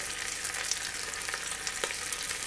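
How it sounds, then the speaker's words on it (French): Pheasant browning in butter in a hot casserole, a close, continuous bright sizzle and crackle with small pops scattered throughout, no voices. "Et on va faire revenir le faisan."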